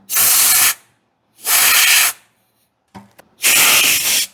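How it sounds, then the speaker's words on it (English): A garden hose sprays soapy water onto gas heater lines in three loud, close hissing bursts of about half a second each, separated by short silent pauses with a faint clatter before the last one. "Take your hose and spray on the other side."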